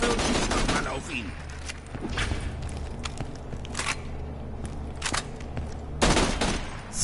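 Gunfire aimed at a Hyperion robot in Borderlands 2: dense, continuous volleys of shots and booming blasts with several sharp louder bursts, loud and close throughout, mixed with game sounds.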